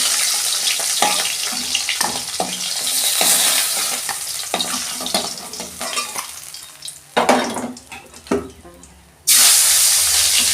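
Pieces of katla fish fry in oil, with close clattering stirring and scraping and an intermittent sizzle, ending in a sudden loud steady hiss.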